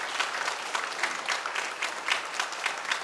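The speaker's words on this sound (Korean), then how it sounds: "큰 박수로 축하해 주시기 바랍니다" A church congregation applauds newly appointed deacons at a New Year's Day Sunday service, a steady, moderately close wash of many hands clapping with no pause.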